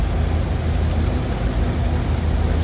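A 1956 Cadillac Eldorado Seville V8 with dual four-barrel carburetors idles steadily up close, a low rumble with a faint ticking exhaust manifold leak mixed in, no talk.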